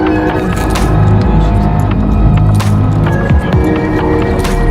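Audi A4 B9 with an aftermarket tuning chip on a test drive, its engine throbbing steadily and close with road and tire noise throughout, no talking.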